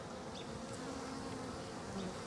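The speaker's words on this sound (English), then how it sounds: "this is the second nuke box here. This one was doing a lot better. Had more bees in it." Bees buzzing inside a well-populated nuc box, a steady, faint, dense hum throughout with no voices.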